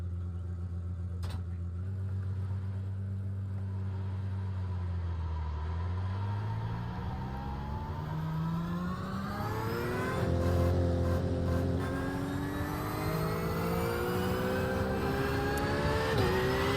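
A race car engine in the iRacing video game, an IMSA endurance race at Watkins Glen, drones steadily and then revs up, its pitch climbing smoothly as the car accelerates, loud and continuous with no speech.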